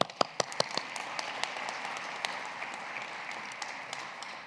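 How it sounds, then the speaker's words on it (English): An audience applauds at a university awards ceremony, starting with several loud, distinct claps up close and then settling into a dense, steady wash of clapping from a large crowd. "Round of applause for you."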